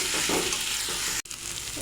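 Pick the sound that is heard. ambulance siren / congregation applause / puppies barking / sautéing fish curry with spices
sautéing fish curry with spices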